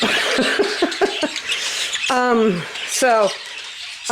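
A gray-green pet bird squawks close by: a few sharp clicks and chirps, then two harsh, drawn-out squawks separated by a pause.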